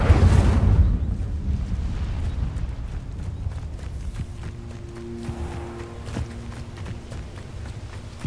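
Incendio fire spell cast in a Harry Potter video game, a loud whooshing burst at the start settling into a steady rumbling roar with sparse crackles and a faint sustained tone later, with no talk.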